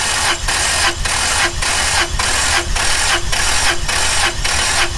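An engine cranks over on the starter during a compression test on cylinder 4, a loud, steady rhythmic chugging with evenly spaced compression pulses, repeating roughly every half second throughout.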